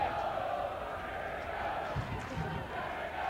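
A big crowd at a 1984 Syracuse vs Hobart college lacrosse game on the banks of Geneva Lake keeps up a diffuse murmur, with a few louder thumps and shouts rising briefly from the hum.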